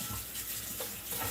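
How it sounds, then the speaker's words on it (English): Tap water runs and splashes as a pan is rinsed under it in a kitchen, a brief steady rush close by. "I can rinse my pan out."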